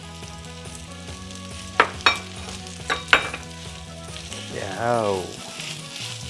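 Kimchi fried rice with sesame oil and kimchi juice stir-frying in a pan, with a steady sizzle, a few sharp spatula scrapes and clanks, and a brief rising whine near the end; a voice says one short word.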